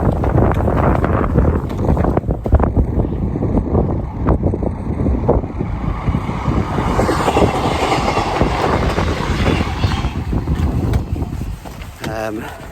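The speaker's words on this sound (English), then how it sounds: "Oh, yeah, train coming as well." A train passes close by beside a field near a river and tunnel, its loud continuous rumble and rhythmic wheel clatter filling the whole stretch, with wind buffeting the microphone.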